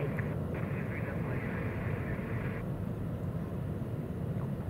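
A United Airlines Boeing 777 takes off from Hong Kong Airport, a steady loud roar of jet engines with a brief whine, while radio chatter plays underneath.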